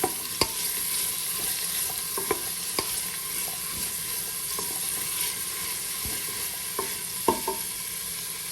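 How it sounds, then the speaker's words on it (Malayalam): Onions and dried red chillies frying in oil in a pan for a beef curry, stirred with a spoon: a loud, continuous sizzle punctuated by sharp scraping knocks against the pan, close and without speech. "ഞാൻ ഇതിലേക്ക് സവാള ചേർത്ത് കൊടുത്തിട്ടുണ്ട്. നമുക്കിതൊന്ന് ഇളക്കി കൊടുക്കാം."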